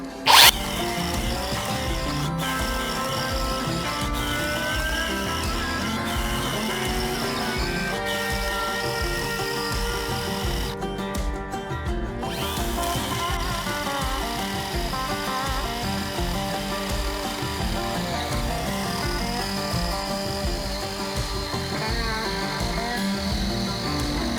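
A Mellif 40V battery chainsaw with a 12-inch bar cuts through wood as its battery runs low, a loud continuous buzzing whine that stays steady throughout with a brief harsher burst midway.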